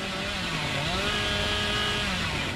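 Billy's chainsaw in the game Dead by Daylight revs steadily for a couple of seconds, a loud buzzing motor whine with a slowly rising and falling pitch, heard alone.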